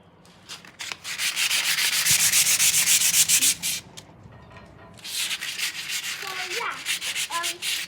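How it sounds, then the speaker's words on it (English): Steady rasping strokes of sandpaper on wood, a long continuous stretch of rubbing, a short pause, then more rhythmic sanding passes close up. "tip for if you're ever sanding wood, or pretty much just sanding in general, always wear a mask"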